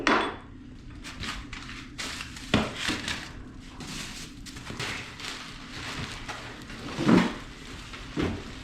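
Metallic clinks, knocks and rattles as the axle is worked out of a new eBike, scattered close taps at irregular intervals, fairly faint, with no talking.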